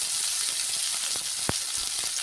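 Two bay leaves frying in hot oil in a pan while making chira khichuri: a steady, close sizzle and crackle with a faint stirring scrape and one sharp pop, and no voices.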